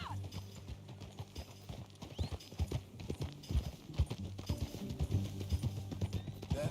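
Horse hooves clip-clopping at a riding pace in Red Dead Redemption 2, sharp rhythmic strikes close by over a low steady rumble, with a brief whinny-like sound mixed in and no talk.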